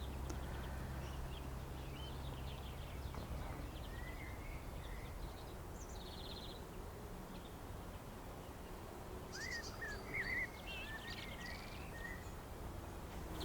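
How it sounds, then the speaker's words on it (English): A blackbird sings in a garden beside a pond, faint, scattered phrases in the distance over a steady outdoor background hum. "Can you hear that blackbird singing?"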